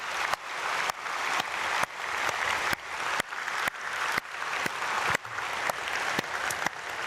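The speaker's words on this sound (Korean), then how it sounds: "우리 하나님께 영광의 박수 올려드리겠습니다." A church congregation claps during an early-morning prayer service at Myungsung Church, a sustained, full roomy applause with a steady rhythmic pulse of claps, fairly loud and unbroken, with no talk.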